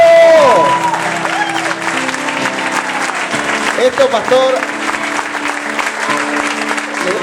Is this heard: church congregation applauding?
yes